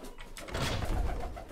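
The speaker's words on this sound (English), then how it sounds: "Yep, hear the owls." Owls in Minecraft give a soft, faint cooing hoot, a single short burst of low calls heard alone.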